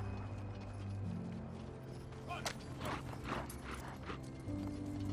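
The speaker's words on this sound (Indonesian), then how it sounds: "Kusir yang melihat situasi itu mempercepat jalannya kereta kuda." Horse hooves clip-clopping at a quick pace with rattling carriage mechanics and a low rolling rumble, sound continuous throughout.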